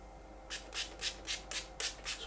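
A C.V. Heljestrand MK.32 Swedish straight razor is drawn across a slurried Japanese natural finishing stone, about seven even, rhythmic rasping strokes, close and clear.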